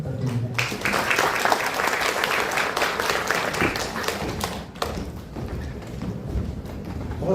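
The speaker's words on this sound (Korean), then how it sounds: "큰 박수 부탁드립니다." Loud, dense applause from a ceremony crowd, many hands clapping close and continuously, easing briefly near the end before picking up again.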